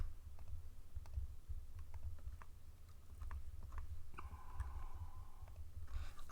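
Typing on a computer keyboard: light, scattered key clicks tapping at an uneven pace, quiet and close, with a brief steady tone sounding partway through.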